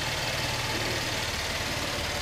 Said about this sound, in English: very nice strong running engine